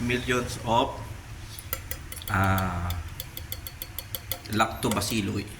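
A spoon stirs Yakult mixed with soya milk in a glass, making a quick, steady run of close metallic clinks against the sides, with a person talking briefly before and after.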